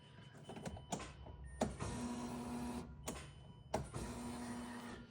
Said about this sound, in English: You'll hear the pump prime.